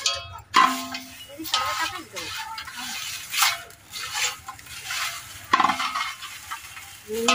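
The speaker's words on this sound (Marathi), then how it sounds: "आता संकेश्वरी मिरची शेकवायची" Sankeshwari red chillies dry-roasting in a pan, with repeated scraping stirs and clattering against the metal under ongoing conversation between people nearby.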